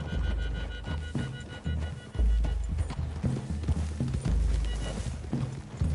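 Horses' hooves in Red Dead Redemption, a loud, close, rapid clip-clop of several horses on the move, with low rumbling and a brief whinny-like sound, steady throughout.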